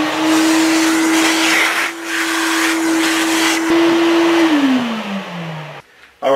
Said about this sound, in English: get the vacuum in here so we can grab some of this dust